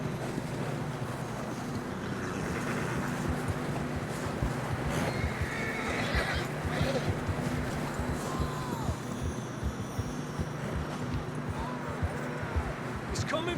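Horses in Red Dead Redemption 2 whinny and snort while hooves clop on rough ground, with wind and rushing water around them and voices talking over the scene.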